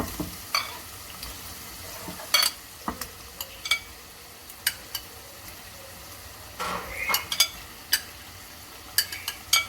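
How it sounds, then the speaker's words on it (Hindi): Steady sizzling of chicken and spices frying in a karahi, punctuated by frequent scraping clicks of a utensil stirring against the metal, no voices. "मसाले को अच्छी तरह से भून लें। मैं चिकन ऐड कर दूंगी।"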